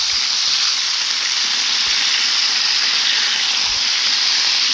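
Chicken pieces sizzle steadily in a pan right after being flipped to the other side, a loud, continuous close-up frying hiss with no talk.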